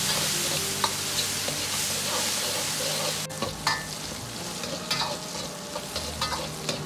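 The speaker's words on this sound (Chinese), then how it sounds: "下入控干水分的辣椒，保持中火炒出辣椒里边多余的水分" Drained chilies stir-fried in oil over medium heat in a wok, a dense steady sizzle with scattered scraping stirs and small crackles, no talking.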